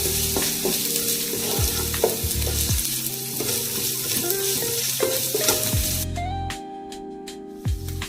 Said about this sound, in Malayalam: എന്നിട്ട് ഇഞ്ചിയും വെളുത്തുള്ളിയും പച്ചമുളക് ചതച്ചിടുക. അത് ഒരു 10 സെക്കൻഡ്സ് ഒന്ന് സോട്ട് ചെയ്ത് കൊടുക്കുക.